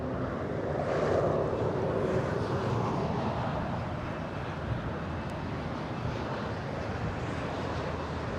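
A Delta Boeing 767-300 at LAX rumbles as a broad, continuous roar that swells slightly early on and then holds steady, heard from some distance with a windy edge and no talking.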